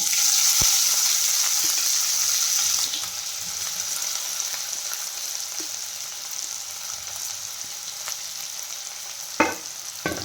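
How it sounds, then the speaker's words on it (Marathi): Finely chopped onion hits hot oil already popping with mustard seeds and cumin, a steady close sizzle that eases slightly after a few seconds, with a couple of sharp utensil clinks and a brief stirring scrape near the end. "आणि याच्यानंतर आपण कांदा टाकणार आहे बारीक चिरून घेतलेला।"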